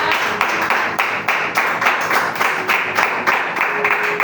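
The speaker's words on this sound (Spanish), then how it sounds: "Si usted lo cree, dale un fuerte aplauso al Señor en esta mañana." A church congregation claps in unison during a Sunday morning service, a loud, steady rhythm of sharp hand claps about twice per second that carries on without a break.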